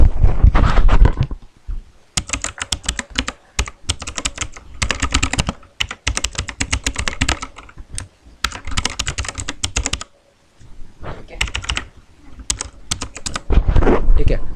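An email address being typed on a computer keyboard, quick clustered runs of close, loud key clicks separated by short pauses.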